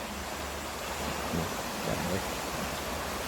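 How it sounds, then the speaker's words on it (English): Steady broadband rush of the Bear River flowing in Petoskey, once used to float logs, heard close by as a continuous wash with faint low murmurs and no talk. "walking along the Bear River."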